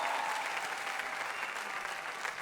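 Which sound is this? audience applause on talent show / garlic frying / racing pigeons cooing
audience applause on talent show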